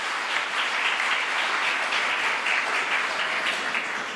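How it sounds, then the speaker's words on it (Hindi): Sustained applause from a large crowd in an auditorium for distinguished guests at a Women's Day event, a steady dense wash of clapping that holds at an even level throughout without any voices. "एक बार जोरदार तालियां हो जाए हमारे इन विशिष्ट अतिथियों के लिए"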